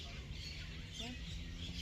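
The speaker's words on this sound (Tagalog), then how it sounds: "Maingay ang mga ibon dito guys. Yan ang sounds dito, mga ibon." Birds squawk noisily in the background while a person talks over them outdoors in a botanical garden in Mauritius.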